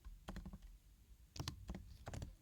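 Typing code on a computer keyboard: quick clusters of key clicks in three short bursts, soft and close with brief pauses between them.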